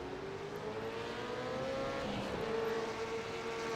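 Race cars and supercars, including a RUF, lapping the Spa circuit near the bus stop chicane, with a steady high engine whine under constant wide track noise and no talk.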